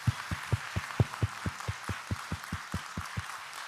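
Scattered clapping from a church congregation at an evening service honouring the men's fellowship: a dozen or so distinct, fairly even claps in a moderate rhythm, heard at a slight distance in a reverberant hall, with no talk over them.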